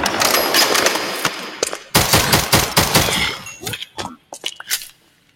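Rapid gunfire in a modded Minecraft game: a dense string of loud, close automatic shots, then scattered single cracks that thin out and stop.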